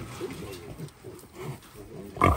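Wild hogs from a sounder on a managed deer hunting property grunt low and close in a loose, uneven series, ending in a louder squeal-like burst.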